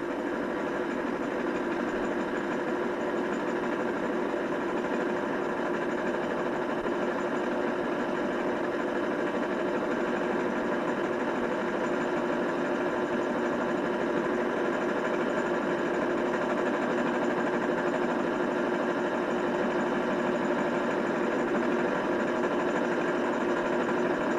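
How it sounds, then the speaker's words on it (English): Electric motor spinning the Nipkow disc of a mechanical televisor, a steady, even mechanical hum and whir with a buzzing, sewing-machine-like texture, continuous and unchanging throughout, no voices. "This motor's starting to spin a bit slow"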